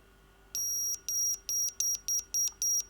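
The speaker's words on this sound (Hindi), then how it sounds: "आपको बीप सुनाई दे जाए तो इसका मतलब है कि स्पीकर ठीक है" A string of short, bright electronic multimeter continuity beeps through a mobile phone speaker, repeating quickly and slightly irregularly, with a faint steady hum underneath and no talking.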